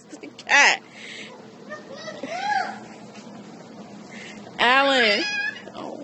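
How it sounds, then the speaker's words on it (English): A cat meows repeatedly outdoors in a residential neighbourhood, a loud close meow at the start, a softer one midway and a long drawn-out cry near the end, over faint background noise and distant voices. "It's just a cat."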